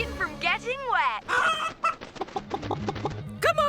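A cartoon chicken clucks and squawks in a run of rising, warbling calls, close and clear, followed by a short exchange of cartoon voices talking over light background music.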